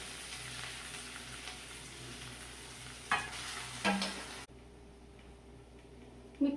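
Potatoes stirred into frying onions and green chillies in a pan for masala dosa filling, a soft steady sizzle with spoon taps and scrapes, then a quieter stretch ending in one more tap.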